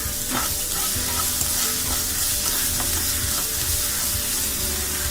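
Chopped onion with a pinch of salt frying in a pan, a continuous bright sizzle with occasional stirring scrapes, close and steady, no voices.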